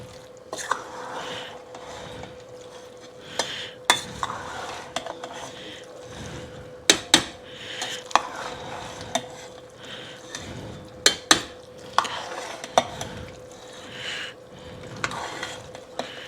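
Macaroni and cheese stirred in a pot with a utensil makes irregular soft squishing and clinks of metal on metal against a quiet kitchen background, alone and close by.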